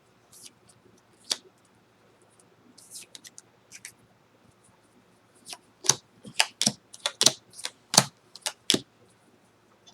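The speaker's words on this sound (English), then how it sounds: "Let's pull the clarifying cards." Tarot cards being shuffled and pulled close up: scattered soft snaps and flicks at first, then a dense burst of crisp card slaps and riffles, quiet between the sharp strokes.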